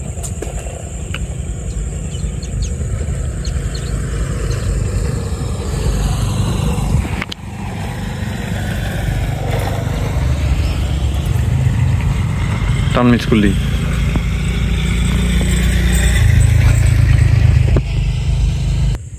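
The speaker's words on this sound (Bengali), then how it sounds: "মোটর সাইকেল আসতেছে কিন্তু মাউরাইয়া।" A motorcycle comes along a rural Bangladeshi path beside a fishing spot, its engine drone building steadily over the clip and loudest near the end, while people talk over the noise.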